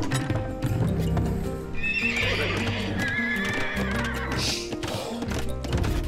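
Horses in the real-time strategy video game Age of Empires II: Definitive Edition, heard as a steady run of clip-clopping hooves with sharp, whinnying neighs that rise and fall over the middle, loud and close throughout.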